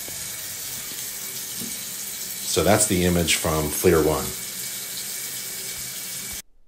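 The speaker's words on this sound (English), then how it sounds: "Turn on the hot water, it's definitely hot." Hot water runs from a sink tap in a steady, moderate rush of flow, with a louder splashing stretch in the middle while someone talks over it.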